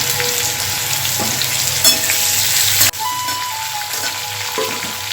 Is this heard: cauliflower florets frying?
yes